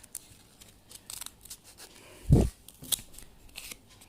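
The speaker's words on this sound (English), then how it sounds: "here you're going to cut it like that" Scissors cut material for a Rubik's Cube stand, giving a few quiet, close snips and one louder, low-pitched cut midway.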